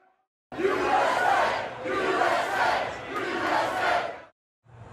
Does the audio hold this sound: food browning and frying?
no